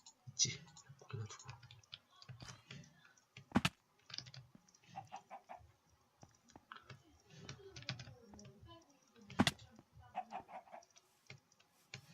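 Chicken clucks from Minecraft gameplay, short soft bursts scattered over a quiet background with sharp clicking and keyboard-like taps throughout; no speech.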